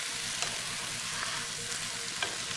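Rice vinegar stirred into a hot frying pan, giving a dense, even hiss of sizzling that holds steady throughout, with a couple of faint utensil ticks against the pan.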